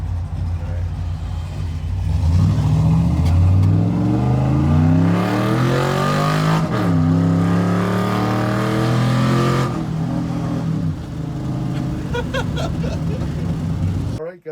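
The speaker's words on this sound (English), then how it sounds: "Let's let the bus go past" A large vehicle, likely a bus, drives past close by, its engine note rising and then falling steadily as it passes, loud throughout with an engine droning beneath.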